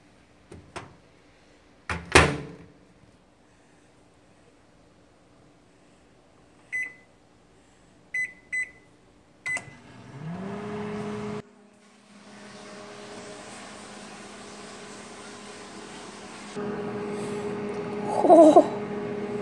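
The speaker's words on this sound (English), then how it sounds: "So now we'll put the cupcakes inside of the microwave." A microwave door clunks and keypad beeps sound, then the oven hums steadily while heating corn dogs, its drone shifting partway through, with a brief voice near the end.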